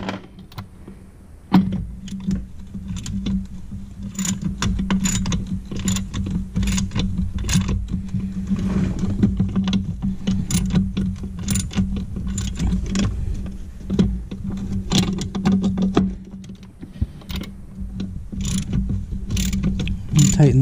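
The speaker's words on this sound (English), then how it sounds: "I do have a deep well socket on a different ratchet." A ratchet fitted with a deep well socket turns a bolt on a snowmobile chaincase, giving rapid, close clicking bursts over a continuous low hum, with pauses between runs of strokes.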